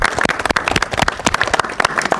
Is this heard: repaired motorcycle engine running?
no